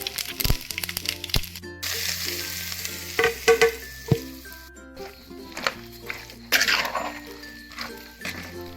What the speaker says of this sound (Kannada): ನಂತರ ಸಾಸಿವೆಯನ್ನು ಹಾಕಿ ಚೆನ್ನಾಗಿ ಒಳ್ಳೆಯ ಒಗ್ಗರಣೆಯನ್ನು ಕೊಡುವುದು